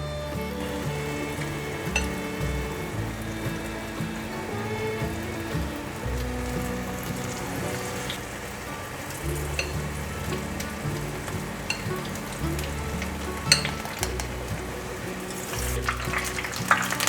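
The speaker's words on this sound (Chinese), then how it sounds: "把茄子沾上面糊，放入油锅里面炸。" Batter-coated eggplant deep-frying in a small pot of hot oil, a steady close crackling sizzle with dense popping bubbles, continuous throughout with a few sharper pops near the end.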